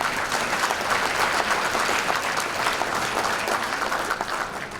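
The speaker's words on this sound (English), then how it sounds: "one big, huge round of applause for that group" Audience applause at a sports hall of fame induction banquet, steady dense clapping from a large room that holds for several seconds and eases slightly at the end.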